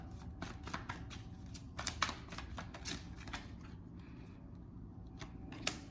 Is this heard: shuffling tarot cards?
yes